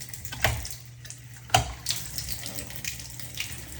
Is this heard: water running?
yes